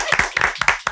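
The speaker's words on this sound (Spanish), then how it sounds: "¡Aplausos!" Scattered hand clapping from a small studio audience welcoming two guests onto a comedy finance show, a few distinct claps in uneven bursts, close and moderately loud.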